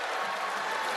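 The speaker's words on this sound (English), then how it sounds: "Chris Beard with a lot of clapping right there" A dense wash of crowd clapping fills a basketball arena, steady and moderately loud for a brief second with no break.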